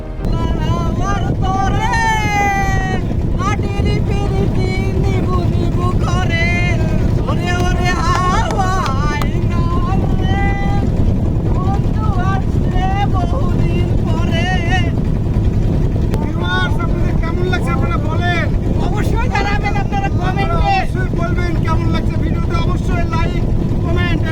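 A motorboat ride across a flooded wetland at Patul, Natore, with a steady engine drone and rushing wind holding throughout, while people talk over it.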